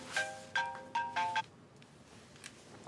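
A mobile phone ringtone plays a quick melodic pattern of four short electronic tone bursts within a second and a half, fairly soft, then stops.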